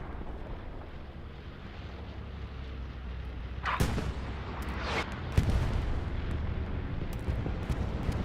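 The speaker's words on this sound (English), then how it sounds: "Bombing run goes through Pizza Slice, and it destroys the garrison." A bombing run in the WWII shooter Hell Let Loose, heard as a few heavy distant blasts and rumbling booms over windy battlefield ambience, with the loudest impacts coming in the middle.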